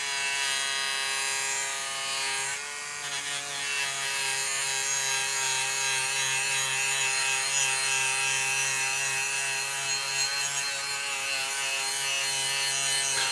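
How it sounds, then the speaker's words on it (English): A Proxxon buffing wheel spins at high speed while polishing compound works scratches out of a 1/32 scale model jet canopy, giving a steady high-pitched motor whine with a grinding rub, close and continuous with no talking. "finish polishing compound and using the Proxon buffing wheel"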